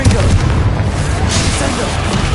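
A loud, rumbling explosion from the Confringo blasting spell fills the Hogwarts Legacy video game scene, a heavy continuous boom that holds steady for the whole stretch.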